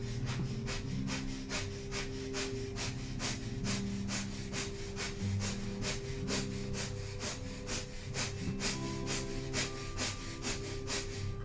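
Breath of fire in a kundalini yoga session: rapid, rhythmic forceful exhalations through the nose, about two per second, steady and close, with quiet background music underneath.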